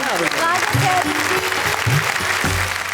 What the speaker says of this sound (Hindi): जरा जोरदार तालियां